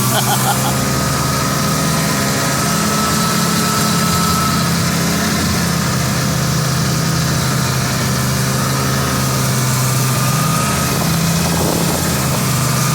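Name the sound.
snowmobile engine while riding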